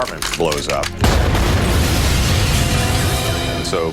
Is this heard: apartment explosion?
yes